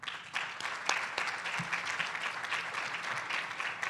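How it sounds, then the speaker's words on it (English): A crowd applauding steadily at a conference plenary session, dense clapping from many hands that holds a fairly even level throughout. "So let's give yourselves a round of applause."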